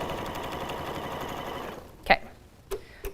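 A sewing machine stitches the last seam of a quilted potholder with a steady, moderately quiet mechanical whir, then stops, followed by a few sharp clicks and knocks.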